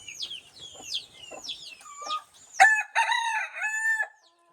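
Chickens cluck softly and repeatedly nearby on a Konkan morning, then a rooster gives a loud, drawn-out crow that ends abruptly.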